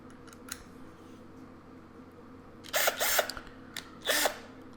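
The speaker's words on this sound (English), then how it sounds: "Now we're going to go ahead and put on the screwdriver attachment and test that as well." Hiipoo cordless drill fitted with a screwdriver attachment driving screws, two short whirring bursts of the motor standing out over steady background noise.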